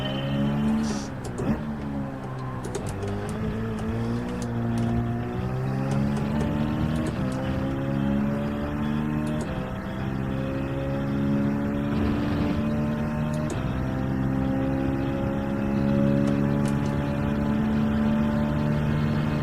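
A droning, harmonic car engine in Gran Turismo 7 during a time trial, pitch rising and falling as it revs and shifts, steady and fairly loud throughout.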